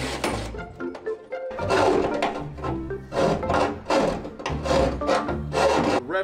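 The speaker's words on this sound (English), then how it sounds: "you're not supposed to run a file both ways usually unless it's like specially cut to run a file both ways" Aluminum being worked with a hand file, giving repeated rough rasping strokes in an even back-and-forth rhythm, close and fairly loud, with no talking.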